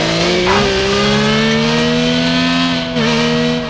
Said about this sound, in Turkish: Yanımızdan Bugatti geçmiyor ama bir külüstür araba geçiyor.